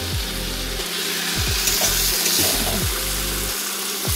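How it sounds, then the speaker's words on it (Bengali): Fish heads fry with spice paste in a pan, a continuous close sizzle broken by repeated scraping and stirring strokes, with no talk. "এবারে যে মাথাগুলো ভেজে রেখেছিলাম, সেই মাথাগুলো দিয়ে আর একটু মশলাটাকে কষিয়ে নেব।"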